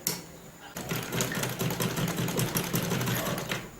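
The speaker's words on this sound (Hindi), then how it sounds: "इसको भी 2 या 3 दफा हमने दोबारा डबल सिलाई करनी है ताकि ये प्रॉब्लम ना हो, सिलाई ना खुले।" A sewing machine runs in one continuous burst, stitching the hem of a salwar, with a rapid, even mechanical chatter heard up close after a short quiet start.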